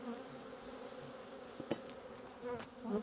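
Honey bees buzz close inside a beekeeper's veil during night-time queen grafting, a faint steady hum with brief louder buzzing passes near the ear.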